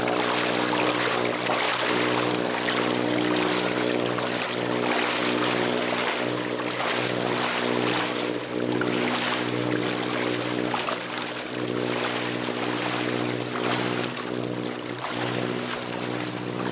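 A sailboat under motor power in very strong wind chugs along with a steady droning hum beneath continuous rushing water and wind noise, close and unbroken throughout.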